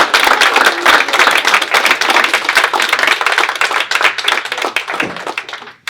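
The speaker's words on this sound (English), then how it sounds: "This is a time for you to start clapping for these folks." Audience clapping at a bill signing for a pharmacy benefits bill, with sharp, individual hand claps forming a lively, uneven patter that thins out and stops near the end.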